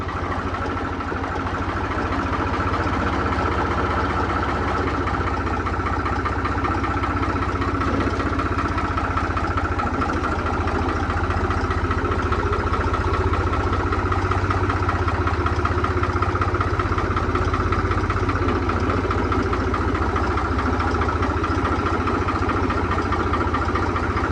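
A 3630 tractor engine idles steadily after starting, a continuous low diesel rumble with even loudness and no voices.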